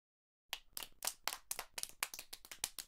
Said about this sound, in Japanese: 皆さん盛大な拍手でお迎えください。